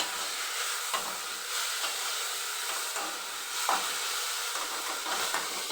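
Taro stolons with shrimp and ginger paste sizzle in a pan while being sautéed, giving a constant hiss broken by a few stirring scrapes, with no talking.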